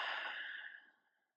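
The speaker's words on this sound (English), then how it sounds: "Full breath out." A single long exhale during a slow-flow yoga session, close and airy, fading smoothly to silence over about a second.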